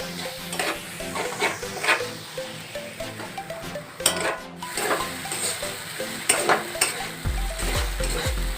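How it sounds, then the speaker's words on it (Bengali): Spice masala with salt and a little water sautéed in a pan for a cauliflower dish, with continuous close sizzling and repeated spatula scraping and clinking against the pan, steady and moderately loud. "এবার মশলাটা আমি কষিয়ে নেব।"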